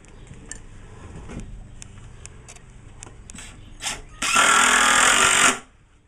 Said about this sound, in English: Be sure your screw's straight and drive it home.